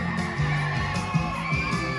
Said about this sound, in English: Audience, are you ready? Let me hear you scream!